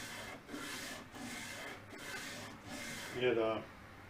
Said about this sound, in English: I got 60 grit sandpaper on there, put a little piece of tape on it.